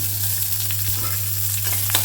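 Dried red chillies, onion and a garlic clove fry in a pan for a carrot-leaf chutney, with a steady close sizzle, occasional light stirring scrapes and a low electrical hum underneath.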